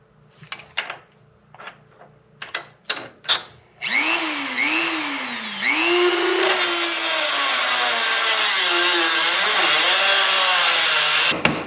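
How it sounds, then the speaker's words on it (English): A small cutoff wheel bites into suspension bolts on a 1972 Pontiac Ventura: a few short knocks and taps, then a loud, high whining grind that rises and falls in pitch as it cuts, running continuously close by. "you can get them little cutoff wheels in there to slice the top of them bolts off"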